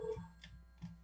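A telephone rings on a call-in radio show line, faint and brief, with a few soft, muffled ring bursts spaced apart.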